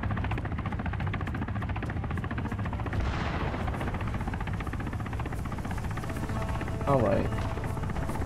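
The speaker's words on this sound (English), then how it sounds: "The chopper somewhere. I don't see it though." A military helicopter in Arma 3 drones with a steady, loud rotor chop that runs the whole time, with a brief burst of gunfire near the end and a few words spoken over it.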